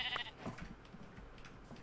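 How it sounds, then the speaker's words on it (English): A brief sheep bleat in the block-building game Minecraft, a short, fairly faint cry over a soft background. "Oh, brown sheep."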